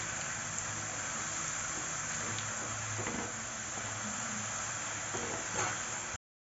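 Homemade potato chips deep-frying in hot oil give a steady, close bubbling hiss that runs unbroken, with faint stirring clinks, then cuts off abruptly near the end.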